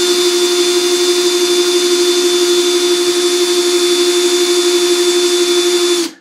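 A steady, loud, high-pitched drill whine as the bit slowly bores into ceramic bathroom tile, running continuously without variation, then cutting off abruptly at the end.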